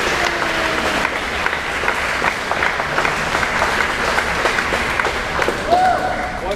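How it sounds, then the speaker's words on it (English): Audience at a youth swim leadership clinic giving parents a round of applause, a steady wash of clapping in a reverberant room with voices murmuring underneath. "So let's give a round of applause for all the parents that came out."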